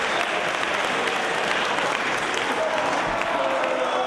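Steady, dense applause from a wrestling crowd appreciating Alex Shelley's skill during a championship match, a continuous wash of clapping filling the arena with no break for the full length.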